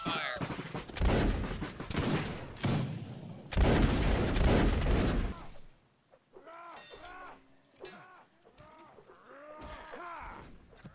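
A musket line fires a loud, ragged volley of gunshots in a Mount & Blade line battle, the cracks rolling together for several seconds before giving way to cheering and whooping voices.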